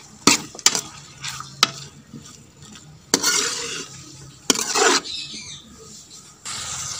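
Red chili is mixed into a ridge gourd and chana dal curry in a pan, with a soft sizzle under sharp spoon scrapes and clinks that come in bursts, some long and rough, others brief taps.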